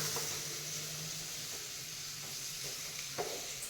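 Steady sizzling of cassava frying with turmeric in a hot pan, a constant soft hiss close up with an occasional light scrape.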